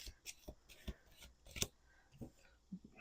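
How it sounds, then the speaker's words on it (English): Tarot cards are shuffled by hand in a quiet room, giving a series of soft riffling and tapping bursts with a few small knocks and no talk. "We're going to do 2 more shuffles."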